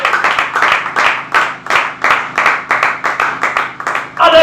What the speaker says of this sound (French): Acclamons la parole du Seigneur